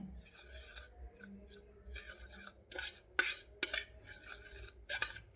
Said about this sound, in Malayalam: ഇനി ഇത് നന്നായിട്ടൊന്ന് മിക്സ് ചെയ്ത് കൊടുക്കാമേ.